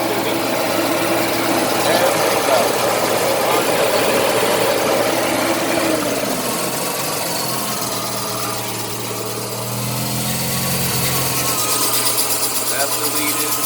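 A Mazda RX-7 FC with a street-ported naturally aspirated rotary engine idles after a cold start, a steady, loud, close buzzing drone held on the throttle that eases slightly in pitch partway through.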